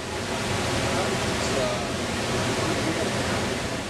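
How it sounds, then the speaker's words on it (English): Niagara Falls in Ontario thunders as a steady, loud wash of broadband roar with a deep rumble, an unbroken curtain of falling water close by with no pauses. "You really hear the waves crashing and sort of rumbling when they're coming down"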